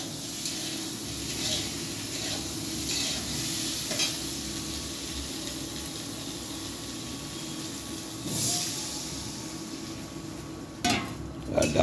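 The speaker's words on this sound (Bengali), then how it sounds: "আলুটা ভাজা হবে।" Sliced potatoes fry in a pan in a home kitchen, a steady soft sizzle with occasional scrapes and stirring clatter, louder bursts near the end.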